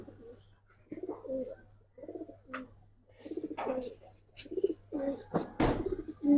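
A silver khaki pigeon coos repeatedly in low, rolling phrases, close and fairly quiet, while a person talks intermittently nearby.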